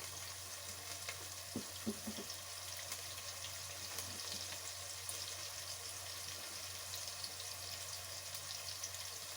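Chicken frying in a pan with a faint, steady, even sizzle heard from a little distance, with a few soft clinks early on and no voices.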